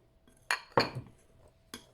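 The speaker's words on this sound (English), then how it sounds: "Sort of scooping off the powder." Spoon scraping lavender powder out of a grinder, three sharp metallic clinks and taps spaced irregularly over two seconds, close and fairly crisp against a quiet background.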